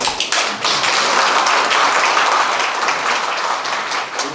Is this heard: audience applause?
yes